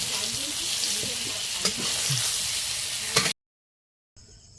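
Potatoes fry in hot oil in a pan, a loud steady sizzle close by with a few sharp stirring scrapes, then it cuts off abruptly near the end.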